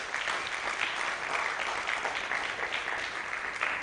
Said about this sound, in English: we need another round of applause for Charity and Suki